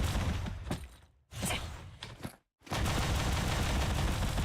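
A character firing her weapon in Genshin Impact: dense bursts of rapid gunfire broken by brief gaps, loud and close, with a final long stretch of continuous shooting.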